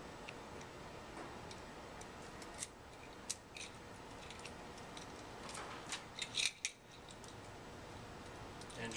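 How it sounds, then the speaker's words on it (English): Key turning in a laptop cable lock at a library, a few quiet metallic clicks and ticks over faint background hiss, with a cluster of sharper clicks near the end. "Then I'm going to unlock the lock at the other end."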